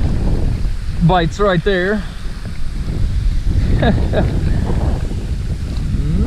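Wind gusts across a pond and rumbles steadily against the microphone under a voice, with a brief burst of birdsong in the background.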